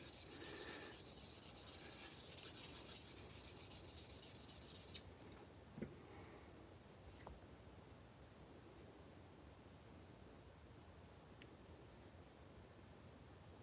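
A steel knife blade is rubbed back and forth on a half-inch abrasive sharpening stone, a close, soft, steady rasping scrape that quietens after a few seconds, with a couple of faint clicks and no talking.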